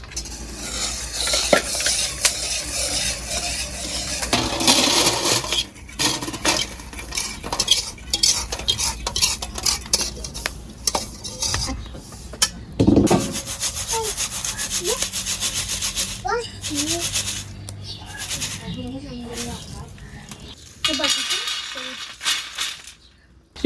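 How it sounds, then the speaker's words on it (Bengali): Bean seeds being stirred and dry-roasted in a pan, a continuous scraping and rubbing of a utensil against the pan with soft crackles, irregular strokes close up and no talking. "সব শিমের বিচি এভাবে ভেজে নেব।"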